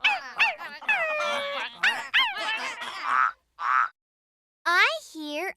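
Farm animal calls including a dog, a string of close, voiced yelps, whines and croaking bleats in short bursts separated by silent gaps.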